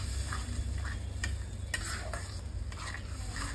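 Tomato paste sizzles softly in hot oil for a Bengali tilapia mustard curry while a utensil stirs and scrapes against the pan in scattered light clinks, steady frying hiss throughout.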